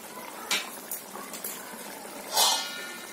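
Tuna fish curry simmering in a covered pan over a medium gas flame, a soft continuous bubbling hiss with a few louder pops and sputters.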